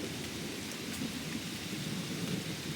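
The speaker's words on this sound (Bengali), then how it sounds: "মেঘে ডাকছে গুমগুর স্বরে" Low thunder rumbles continuously through a light rain, forming a steady, fairly soft wash of storm noise with no voices.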